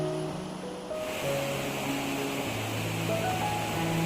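Water flows over the waterfall at Kainoor Chira in Thrissur, Kerala, a steady, broad rushing roar that holds at an even level throughout, with faint tonal sounds drifting over it.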